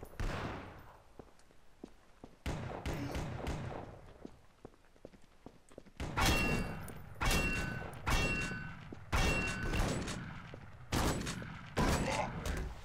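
Clones firing handguns in E.Y.E: Divine Cybermancy: scattered sharp shots at first, then heavier, louder bursts of fire at a steady cadence, with repeated echoing reports and no talking.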